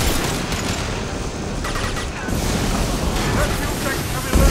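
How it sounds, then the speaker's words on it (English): Dense video game gunfire and a concussive shot in Mass Effect 2, a continuous barrage of loud rattling shots and booms with voices talking underneath. "Firing concussive shot!"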